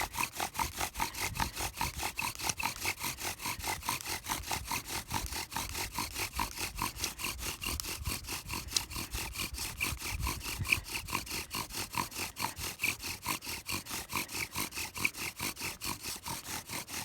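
A bow drill spindle grinds against a wooden fireboard in a fast, even back-and-forth rhythm, each stroke a raspy rubbing swish, faint but steady and unbroken for the whole stretch, with no talking.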